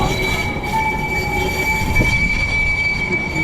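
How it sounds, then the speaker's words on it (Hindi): An Istanbul tram rolls past on its rails, a loud continuous rumble with squealing wheels and a steady high whine, up close and with no voices. "ये देखें दोस्तों, ये ट्राम है यहाँ की।"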